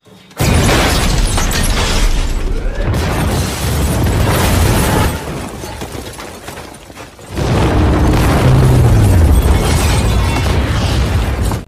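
A loud, roaring bomb explosion in an action film bursts in and rumbles on, fades briefly, then a second heavy blast roars with rubble and debris crashing as a factory is destroyed.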